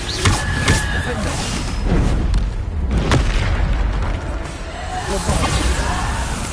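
Repeated Bombarda spell blasts in the Hogwarts Legacy video game: dense booming explosions and whooshes over constant loud combat noise, with sharp bursts recurring throughout.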